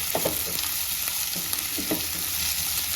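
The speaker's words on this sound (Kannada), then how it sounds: "ಈಗ ಇದನ್ನು ಫ್ರೈ ಮಾಡ್ತಾ ಇರುವಾಗ ಸ್ವಲ್ಪ ಉಪ್ಪು ಹಾಕಿದ್ವಿ ಅಂತಂದರೆ ಬೇಗನೆ ಈರುಳ್ಳಿ ಫ್ರೈ ಆಗುತ್ತೆ" Onions frying in coconut oil for a Kannada-style avarekalu chitranna, with a steady close hiss of sizzling and a few soft stirring scrapes and pops throughout, no voices.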